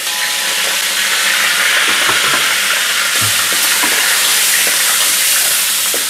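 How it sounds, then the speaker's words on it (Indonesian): Curry leaves and lemongrass fry in hot oil in a home kitchen, giving a steady loud sizzle and hiss with small pops throughout, no talking. "Kita udah panaskan minyak, kita masukkan daun kari dengan serai."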